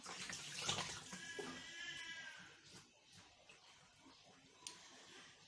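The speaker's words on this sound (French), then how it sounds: "Alors, après avoir frotté mes deux mains, je vais rincer." Running tap water splashes over hands being rinsed at a sink, a steady close hiss and patter lasting throughout with small shifts as the hands move, plus one brief sharp knock near the end.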